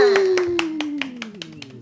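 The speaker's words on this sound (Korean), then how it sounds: "박수." A short burst of hand claps from a few people, quick and uneven, over a sliding electronic tone fading underneath.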